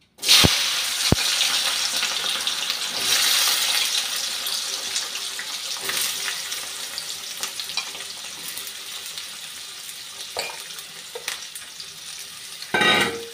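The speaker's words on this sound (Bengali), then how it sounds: "তেলটা গরম হয়ে গেছে, এখন জলপাইগুলা তেলে দিয়ে দিচ্ছি।" Olives dropped into hot oil for a pickle sizzle steadily with a bright hiss, sharp spattering pops at the start and a louder crackling burst near the end.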